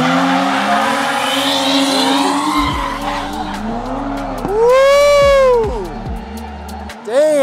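Race cars drift at a car festival, their tires squealing in long wavering screeches as engines roar past up close, with excited voices and crowd noise around.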